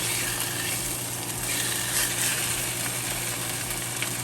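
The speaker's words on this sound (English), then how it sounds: "I'm gonna put some oil, and I'm gonna start adding our steaks back in." Cuban palomilla steaks frying in hot oil give a loud, continuous sizzle with light crackling pops, close up and steady throughout with no talking.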